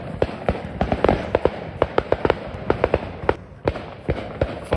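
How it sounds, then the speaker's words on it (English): Bonfire night fireworks crack and pop in rapid irregular bursts outdoors, loud sharp bangs scattered across the whole stretch with no talking over them. "fireworks, yeah?"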